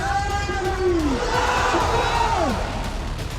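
Thousands gathered at a rally in Beldanga, Murshidabad, West Bengal, chant religious slogans from a stage of clerics, the massed voices rising and falling as a dense, loud, sustained crowd roar with no gaps.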